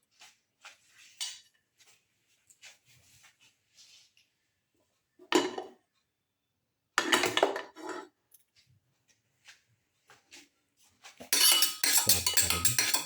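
Rice flakes and raisins being sautéed in a pan for a sweet banana dessert soup, heard as scattered scraping and clinking of a utensil against the pan, with a few louder stirring bursts and a busy rattle near the end.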